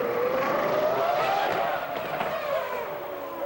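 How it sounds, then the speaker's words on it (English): A McLaren Mercedes Formula One car screams through 2001 Monaco Grand Prix practice, its high engine note rising and then dipping and stuttering as traction control cuts in, fairly near and loud against crowd ambience. "the traction control cut in there on the McLaren Mercedes engine to try and pull some more traction out of it"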